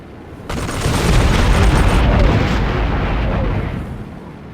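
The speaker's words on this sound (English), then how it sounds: "Now use the gun to attack the enemy." Rapid aircraft gunfire in the flight combat game The Sky Crawlers: Innocent Aces, a dense loud burst of continuous rattling shots with a heavy low rumble, starting abruptly and sustained for several seconds before easing off.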